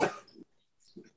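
A dog gives a short burst of noisy barking, loud at the start and trailing off, then a second softer bark-like sound a moment later, with no talking.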